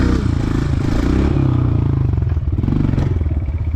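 A Honda CRF 125F dirt bike's engine revs hard and steady up close as the clutch is popped for a wheelie, with rattling and clattering mechanical noise throughout.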